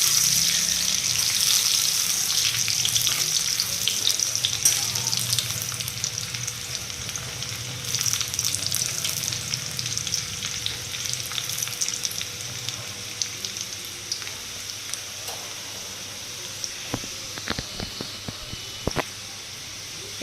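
Garlic fries in a pan for garlic and black pepper chowmein, a steady crackling sizzle running through with occasional clinks and scrapes of stirring, close and without speech.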